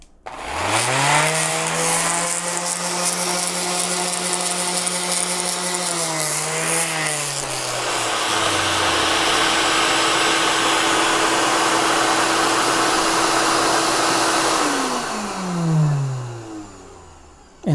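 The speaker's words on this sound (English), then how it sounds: "when you turn on your power tool, it'll automatically start the vacuum." A workshop power tool switches on and a dust collection vacuum starts automatically. The result is a loud, steady whirring roar with a rising and falling motor pitch that winds down near the end. Nobody speaks.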